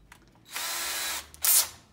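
A power drill with a wooden chair dowel clamped in its chuck whirs in a loud burst of about half a second, then gives a shorter, sharper second burst, close by with no talk.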